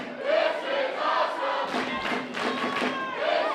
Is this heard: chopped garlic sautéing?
no